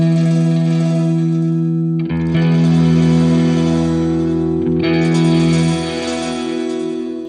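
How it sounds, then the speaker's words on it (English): A distorted electric guitar power chord runs through a HeadRush Gigboard with heavy reverb, ringing loud and sustained and then restruck twice, each hit blooming into a long, washing tail. "It's delivering a reverb power chord"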